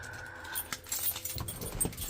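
Keys jangle in short metallic bursts close by, near a bagged C30 dually truck, with scattered rattling and handling noise over about two seconds and no talk.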